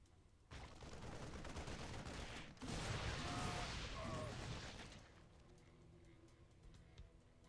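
Marines in StarCraft opening fire on zerglings, a dense rattling burst of rapid gunfire swelling loudly for a few seconds before fading into scattered clicks.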